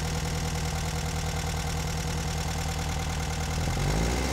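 Air-cooled Volkswagen engine with a 009 distributor, its timing being checked, running loud and steady close up before the revs rise sharply near the end.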